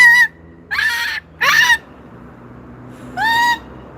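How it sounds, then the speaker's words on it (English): A large Moluccan cockatoo on a patio gives four loud, harsh honking screeches close by, three in quick succession and one more after a pause, with quiet between calls. "He's a Moluccan Cockatoo, and he is not small."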